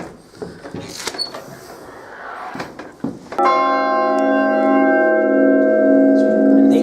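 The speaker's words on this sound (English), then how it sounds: "And this is the point our bell rings" A church bell strikes inside the bell chamber of a church, very loud and close, its long sustained metallic ring with rich overtones following clatter and thumps of movement in the room.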